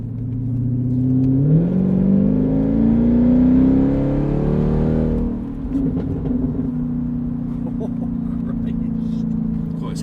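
A 670bhp Jaguar XFR-S accelerates hard, its engine note climbing loud and close as heard from the back seat, then dropping back to a steady deep rumble as the revs settle.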